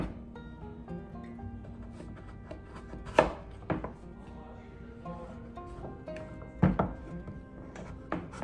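A knife slices squash on a cutting board in a quiet outdoor setting, with scattered soft cuts and two sharper thunks against the board, close by and moderately quiet, and no talking.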